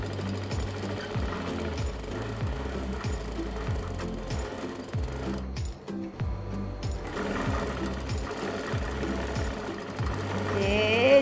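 A sewing machine runs loud and close, stitching fabric for a tiered robe with coarse basting stitches, a fast regular mechanical rattle that pauses briefly midway and then resumes, with no speech over it.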